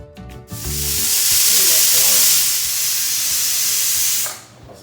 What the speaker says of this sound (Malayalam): കുക്കർ അടച്ച് വെച്ച് മീഡിയം ഫ്ലെയിമിൽ വെച്ചാണ്ട് 1 വിസിൽ വരുന്നത് വരെ വേവിച്ചെടുത്താൽ മതി